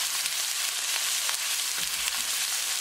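Ginger, garlic and green chili sizzle in hot olive oil with cumin seeds for a matar paneer, giving a steady, close frying hiss with faint stirring clicks throughout.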